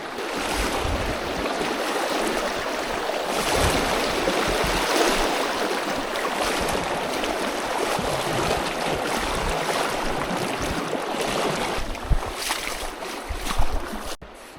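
River rapids on a trout stream where the elevation drops quickly, a loud, steady broadband rush of fast water filling the whole stretch, with a few sharper splashes near the end and no talking.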